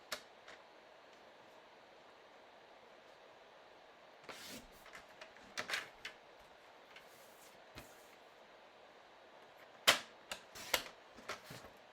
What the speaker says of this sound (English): I'm going to cut a little bit off the bottom and a little bit off the top